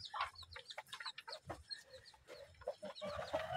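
Indonesian free-range village chickens cluck and chatter continuously, several birds at once, with busy overlapping calls close by.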